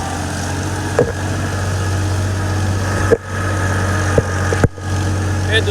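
A tractor engine runs steadily in second gear on a bad, muddy road, a close, continuous low drone and rumble with a few brief knocks and clunks.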